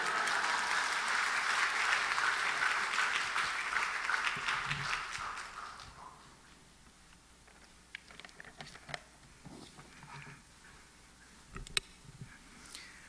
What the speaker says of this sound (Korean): 할렐루야로 우리 큰 박수로 환영하겠습니다